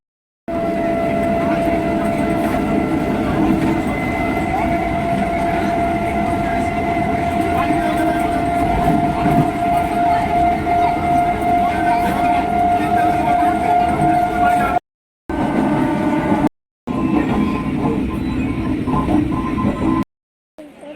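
A train running on rails, loud and continuous with a steady rumble and tonal hum, briefly cutting out twice near the end; voices can be heard faintly underneath.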